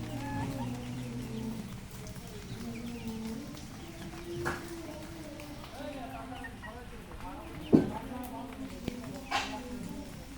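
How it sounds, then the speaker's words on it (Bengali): Desi roosters and hens cluck and call in a rainy yard, fairly close, with a few sharper bursts, under steady talk from a person nearby. "দেশি মোরগ হচ্ছে"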